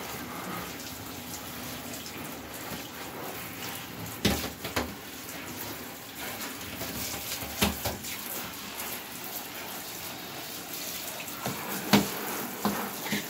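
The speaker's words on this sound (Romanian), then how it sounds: "De obicei, vara fac duș la orhidee" Shower spray of water falling on potted orchid leaves, a continuous moderate hiss of spraying water with small splashy fluctuations, heard alone without talk.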